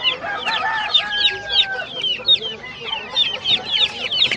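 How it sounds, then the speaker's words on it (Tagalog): Chicks at a pet market in Bocaue peep constantly in a crowded chorus of high, rapid chirps, close and busy, with a few longer cheeps standing out and faint voices in the background. "Kuha tayo sisiw, ayan. Piliin natin yung malaki"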